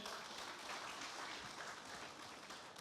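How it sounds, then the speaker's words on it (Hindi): Audience applause at an interview event with actor Rajkummar Rao, a faint, steady wash of clapping lasting a few seconds. "एक बार जोरदार तालियां हो जाए।"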